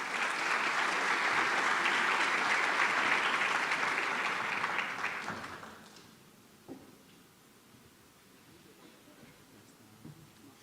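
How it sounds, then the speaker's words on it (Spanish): An audience at a lecture welcomes a guest speaker with loud, sustained applause that runs for about five seconds, then fades out into a quiet room with a few faint knocks. "Recibámoslo con un fuerte aplauso,"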